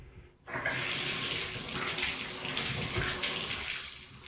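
Shower water pours steadily from a faulty shower valve that won't shut off fully, a loud continuous rushing hiss starting abruptly after a brief quiet moment and running on unbroken.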